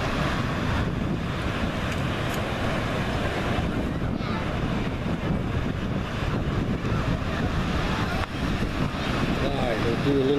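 Ocean waves rolling onto the beach at Ocean City, New Jersey, a steady broadband wash buffeted by heavy wind rumble on the microphone, continuous for the whole stretch with no clear breaks between sets.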